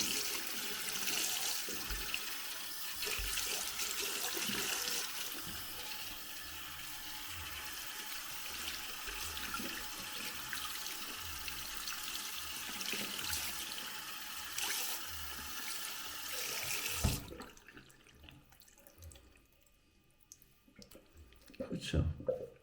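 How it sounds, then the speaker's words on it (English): Water runs steadily while shampoo foam is rinsed out of 4C natural hair, a close splashing and streaming that carries on for most of the time before dropping away to quieter drips and movement; speech is present. "I'll be trying to make sure that all the soapy foam is completely flushed away out of my hair"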